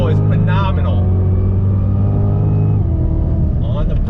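A Cadillac CTS-V Championship Edition performance sedan's engine roars steadily at close range under throttle, its pitch holding then dipping slightly, with a voice talking over it at the start and end.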